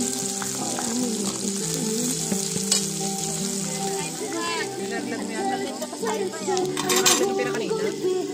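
Dried fish sizzling and crackling steadily in hot oil at a forest campsite, with stirring and a few utensil clinks against the pan, and a voice speaking faintly in the background.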